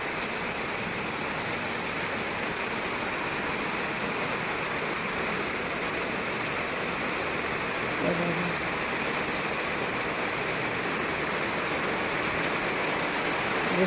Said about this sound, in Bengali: কত জোর বৃষ্টি হচ্ছে, রাস্তাতে লোকজন সেভাবে নেই।